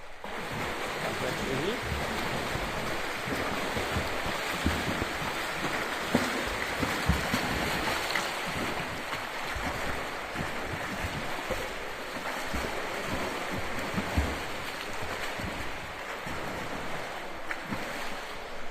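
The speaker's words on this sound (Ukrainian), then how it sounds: "Пливемо кролем без повітря." Front crawl swimming in an indoor pool during a breath-hold distance swim, a continuous broadband wash of splashing and churning water that stays steady and fairly loud throughout, with a faint voice at times.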